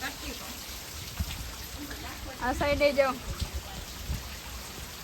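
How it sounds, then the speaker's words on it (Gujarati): Heavy rain pattering steadily in the background over a flooded farm field while a person speaks briefly over it, fairly close. "હજી વરસાદ બંધ થયો નથી"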